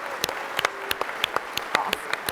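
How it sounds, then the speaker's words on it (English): A conference audience claps throughout, a dense patter of sharp hand claps spread evenly across the room at moderate level, with no talking over it. "Y'all give her a hand clap."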